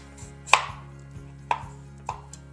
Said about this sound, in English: That way you can cut this nicely without risking cutting a finger off